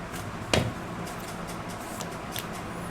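Tarot cards shuffled during a reading, one short crisp riffle near the start followed by faint card handling against a steady background hiss.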